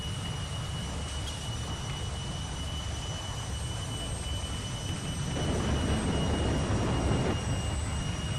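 A jet aircraft with afterburner flies in a flight video game, a steady, even roar and hiss that swells slightly toward the end, with no talking.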